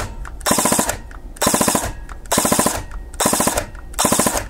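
Airsoft gun fitted with a Perun AB++ mosfet firing four short, rapid bursts of about five rounds each, evenly spaced with brief pauses between, loud and close with no talking.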